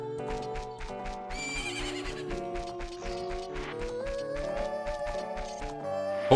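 A horse neighs in The Legend of Zelda: Ocarina of Time over tonal, looping background music, with a rhythmic clip-clop of hooves throughout.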